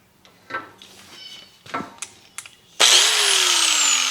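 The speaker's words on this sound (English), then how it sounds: "we're going to use the angle grinder and just take a little more steel off of this one" Angle grinder switches on and runs loud and steady against a steel mower blade after a few clunks and knocks of handling.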